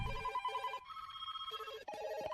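A telephone rings with a trilling electronic bell in repeated bursts separated by short pauses, clear and fairly close.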